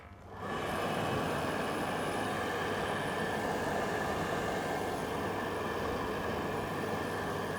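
An oil burner motor and fuel pump starting up during a repair, with a kerosene pump that may be faulty or a nozzle that may be blocked: a loud, steady, broadband whirring roar that kicks in abruptly and holds close by with no talk.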